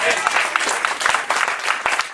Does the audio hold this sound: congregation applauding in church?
yes